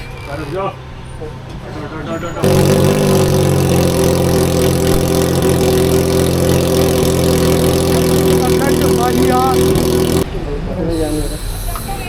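A motorcycle engine with its exhaust removed idles loudly and steadily with an open, raw note, a constant throbbing drone that starts abruptly and cuts off near the end.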